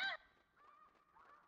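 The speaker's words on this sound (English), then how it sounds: "Sounds like some geese." Snow geese honking in the hunting game theHunter Classic, a loud nasal honk at the start followed by fainter, more distant calls from the flock.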